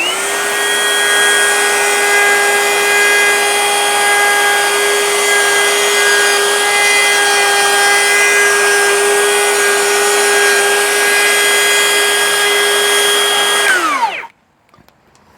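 A router cuts a mortise for a handrail joint in wood, its motor holding a loud, steady, high-pitched whine for about fourteen seconds before it cuts off abruptly.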